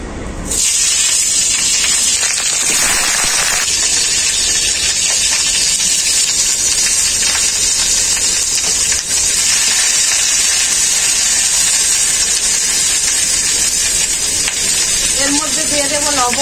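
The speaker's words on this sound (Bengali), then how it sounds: "ওই আলু ভাজা তেলের মধ্যে আমি ফুলকপিটাও ভেজে নেব।" Cauliflower frying in hot oil left over from frying potatoes, a loud steady hiss and sizzle that starts abruptly and holds unbroken throughout, close and alone with no talk.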